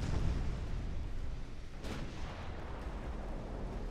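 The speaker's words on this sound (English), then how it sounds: "That was a torpedo from my heavy cruiser." A heavy cruiser's torpedo striking a ship in the Ultimate Admiral: Dreadnoughts game: a loud, deep explosive boom at the start that fades into a rumbling wash of battle noise, with one short sharp crack partway through.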